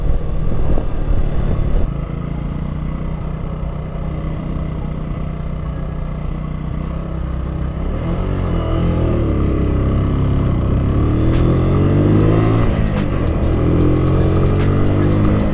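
A Honda Valkyrie motorcycle riding near Bournemouth beach, its engine droning loud and steady with wind rush, then pitch sweeps shifting as the rider changes down through the gears while slowing to stop.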